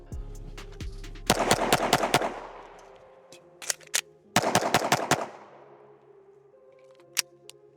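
A Staccato HD C4X pistol fires two rapid strings of sharp shots at close range, about five in each string, with a few isolated cracks and clicks between and after.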